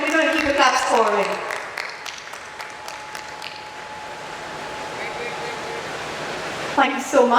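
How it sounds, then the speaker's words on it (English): Hall audience keeps clapping at an architecture and interior design awards function; a host talks briefly first, then steady mid-level applause continues underneath before the voice returns at the close. "Ladies and gentlemen, we're going to keep the claps pouring."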